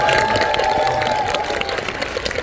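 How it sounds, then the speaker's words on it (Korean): Audience applause and cheering at a film screening Q&A for 'The King's Man' (왕과 사는 남자), a steady dense crowd clapping over the full length with some voices mixed in. "왕의 남자 이준익 감독님과 정진영 선배님께 뜨거운 박수 한번 부탁드립니다"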